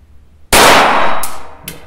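A High Standard 106 pistol fires one loud, sharp report with a long ringing decay, followed by a couple of faint, brief metallic ticks.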